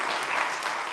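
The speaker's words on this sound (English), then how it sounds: "let's give these guys a round of applause." A brief second of audience applause at a panel discussion, a dense, even patter of clapping heard on its own.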